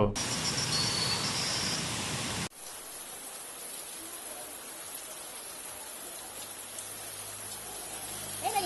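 Heavy rain falling in Bhavnagar city, a dense steady hiss of rainfall, louder at first and then a softer continuous patter for several seconds.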